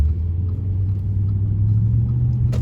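An Audi S5 4.2 V8 engine running on LPG after a gas conversion hums with a deep, steady low rumble, close and constant, gently rising as the car moves along residential streets.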